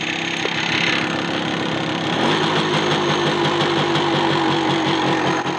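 An MZ 150 motorcycle engine idles steadily after being restarted following three years unused, a continuous close mechanical chug with a faint whistle over it and a slight shift in pitch partway through.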